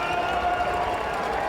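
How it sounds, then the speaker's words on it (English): Stadium crowd at an Orlando City SC soccer match against the Rochester Rhinos, a steady broad roar of cheering that holds at an even level throughout, with a commentator's voice running over it. "now Dennis Chin will get a big roar from the crowd"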